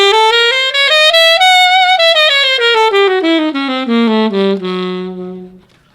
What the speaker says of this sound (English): So that's a linear scale